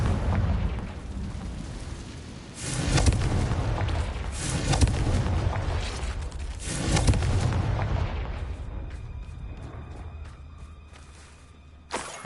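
The Confringo explosive spell goes off in the Hogwarts Legacy video game as a series of booming blasts. Several heavy bursts land a couple of seconds apart, followed by fading rumble and game ambience.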